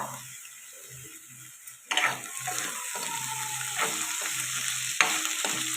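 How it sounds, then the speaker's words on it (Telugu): Pre-boiled prawns frying in oil with ginger-garlic paste for a prawn masala curry; a soft hiss jumps to a loud, steady crackling sizzle partway through, with occasional stirring scrapes and a low hum. "ఇవి కూడా 2 నిమిషాల పాటు ఈ ఆయిల్లో ఫ్రై చేసుకున్నాం."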